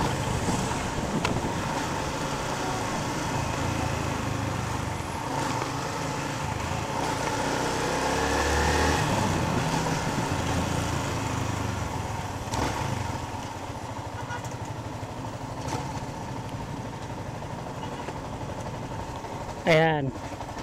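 A 2019 Yamaha Sniper 150 motorcycle engine while riding, a steady buzzing drone with wind rush, continuous for the whole stretch while someone talks over it.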